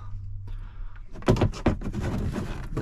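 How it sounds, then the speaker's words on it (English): The cab door of a John Deere S660 combine harvester, which flops loosely, swings and shuts with a few close knocks and a rattling clunk after a short quiet stretch. "door needs some attention. It's kind of flopping right here."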